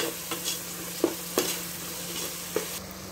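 Onions stirred with salt in a pan for a Thalassery fish-head curry, a few soft scraping knocks of a spoon spaced irregularly over a low background sizzle, alone with no talk.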